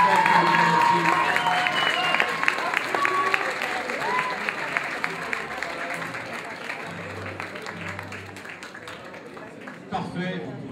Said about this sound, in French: Applaudissements pour toutes les candidates